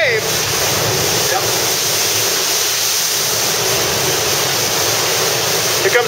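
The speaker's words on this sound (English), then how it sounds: "those waves is what made this cave" Ocean surf surges into a sea cave at Nanahoa, Lanai, Hawaii as a loud, continuous roaring wash mixed with wind buffeting the microphone.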